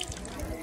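Water running from a tap for handwashing after a meal, a steady close-up gush lasting under a second with no speech.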